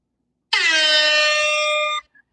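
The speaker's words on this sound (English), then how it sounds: "I think my air horn just arrived." A single loud air horn blast holds steady for about a second and a half, then cuts off cleanly into silence.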